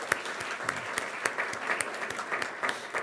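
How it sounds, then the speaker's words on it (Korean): A Christmas service congregation applauds a church choir after a condensed performance of Handel's Messiah, a steady crowd of handclaps with sharper individual claps popping out, moderately distant and sustained throughout. "격려의 박수 부탁드립니다."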